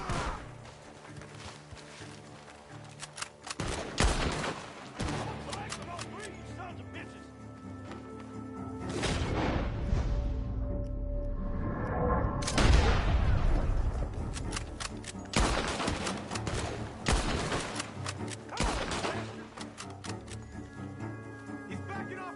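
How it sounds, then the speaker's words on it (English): Gunfire erupts in Red Dead Redemption 2 as shots come from a barn: several loud cracking bursts spread unevenly over a busy game soundscape with music, under shouted talk. "The gunshots are coming from that barn!"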